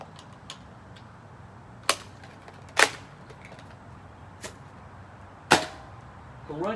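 A Nerf Rival foam-ball blaster firing several separate shots: sharp, loud snapping pops at irregular intervals over quiet background handling noise.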